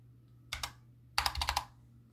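Typing on a Corsair K65 mini keyboard used for gaming: a short burst of two or three crisp keystrokes, a pause, then a quicker cluster of clicks, close and dry over a faint low hum, with no voices.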